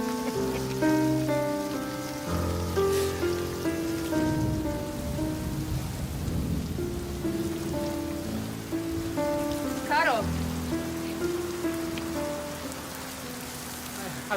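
Steady rain patters on a surface throughout, a continuous wash of drops beneath tonal music that swells and fades, with no voices present.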